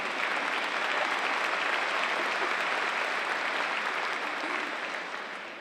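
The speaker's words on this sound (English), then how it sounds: "You notice the moms started that round of applause over here" Steady round of applause from a commencement audience at Mercyhurst University, a dense sustained wash of many hands clapping together with no talk over it, tapering off slightly toward the end.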